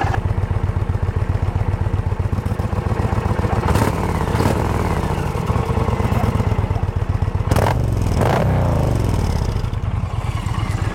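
An Indian Challenger motorcycle with an aftermarket exhaust, its valve open, rumbles steadily and close up at a low, throaty idle. A couple of brief clattering bumps break in partway through.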